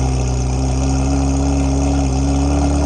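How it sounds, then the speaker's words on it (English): A Ferrari 360 with an IPE exhaust and open valves idles loud and close, a steady deep rumble with a droning tone that holds evenly throughout. "It has an IPE exhaust and with open valves, and it is just loud and angry."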